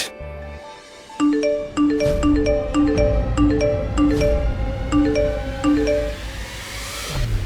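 A bell-like ringing tone plays as a repeating melodic chime pattern, bright and clear, over a low background rumble.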